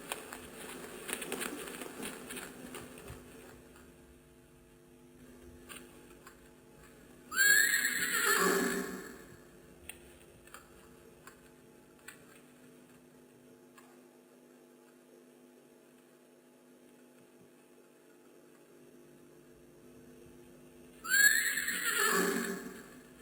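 Restless horses neighing in two loud, shrill whinnies spaced well apart, over a faint background hum, with no talk.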